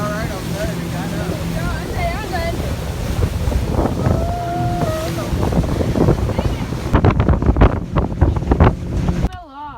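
A boat riding on water in wind, with a steady roar of wind buffeting the microphone and water rushing beneath, while people talk and call out over the noise throughout.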